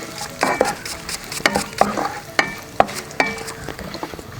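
Grated coconut and mustard seeds sizzle and fry in a pan, with repeated scraping strokes of a spoon stirring at a steady rhythm, loud and close.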